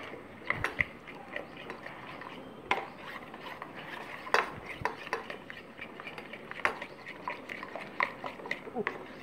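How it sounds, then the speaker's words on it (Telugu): Flour and water are whisked quickly with a spoon into a smooth batter for Bombay chutney, producing rapid, light clicks and taps against the bowl over a soft background hum. "కొంచెం ఫాస్ట్గా కలపాలి తొందరగా మిక్స్ అవుతుంది"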